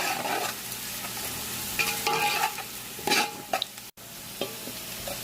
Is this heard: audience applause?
no